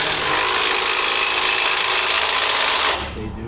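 A Milwaukee power tool runs at a steady high-pitched whine for about three seconds and then cuts off abruptly, with a low rumble continuing afterward.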